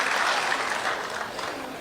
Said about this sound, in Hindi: इसके लिए आपको एक बार तालियां बजानी पड़ेगी